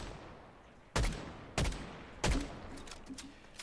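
Gunshots in a shooter game: three sharp, loud cracks spaced about two-thirds of a second apart, each with a short echoing tail, followed by fainter scattered pops in the distance.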